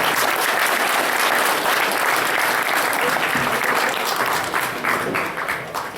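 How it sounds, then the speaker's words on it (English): A crowd applauds at the TrotCon 2023 closing ceremony, the clapping dense and steady for about six seconds before easing slightly near the end. "All right, round of applause."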